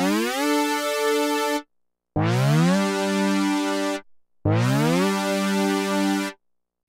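Three sustained tones from an Oberheim OB-X8 synthesizer on a unison portamento preset, oscillators tuned a fifth apart, each gliding up from an octave below into a bright, buzzy chord, separated by short silences.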